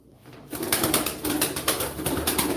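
Pigeons flutter and coo close by, with repeated bursts of wing flapping after a quiet start.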